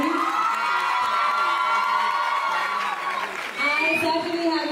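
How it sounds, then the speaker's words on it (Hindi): A crowd at a celebration event cheers and applauds loudly, with high-pitched shouts and whoops rising over continuous clapping and overlapping voices. "एक बार जोरदार तालियों से बता दीजिए everybody."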